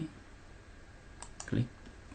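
A computer mouse clicking during a tutorial on drawing direction lines on a map: a couple of faint, sharp clicks about midway through, against quiet room tone.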